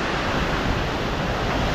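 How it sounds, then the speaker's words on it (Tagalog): Strong typhoon wind roaring without pause, a loud dense rush buffeting the microphone, with no speech over it. "Lalo lumalakas yung hangin."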